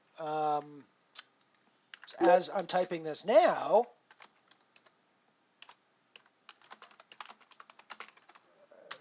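Someone speaks briefly, then quick light clicks of typing on a computer keyboard follow in irregular bursts, close and fairly soft.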